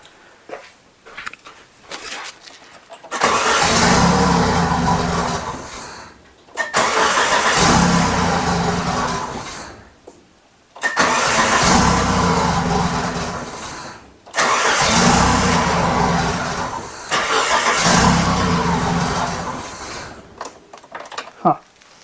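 A 1998 Chevy Tracker engine fitted with a custom turbo header cranks in four long, loud bursts of steady whirring, separated by short pauses and never catching, heard up close with brief low voices in the gaps.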